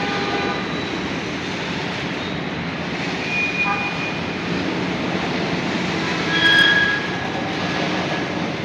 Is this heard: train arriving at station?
yes